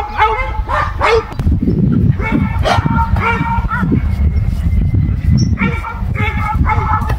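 A dog barks and yips repeatedly at close range, with whimpering between the barks and some background voices.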